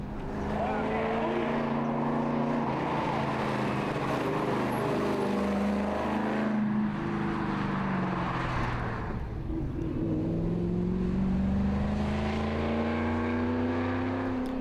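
A 1969 Mustang V8 at a Targa NZ road rally rumbles loudly and continuously, its exhaust note rising and falling as it revs, with talk mixed over the engine.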